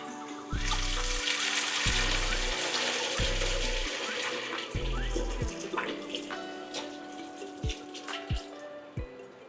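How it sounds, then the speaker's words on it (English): Malbec red wine poured into a braising pot for short ribs, a steady splashing gurgle with repeated low glugging pulses from the bottle, followed by scattered drips and small clinks, close and fairly loud. "we're going to go in with some Malbec red wine"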